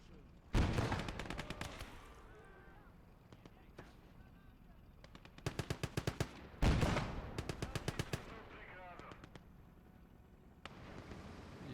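Towed 2cm flak guns in the Gates of Hell World War II strategy game fire in rapid bursts, several sharp rattling volleys separated by quieter gaps with faint background battle noise.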